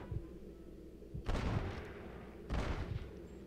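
Gunfire in Red Dead Redemption, two separate sharp shots with rumbling tails about a second apart, fairly faint over a quiet background.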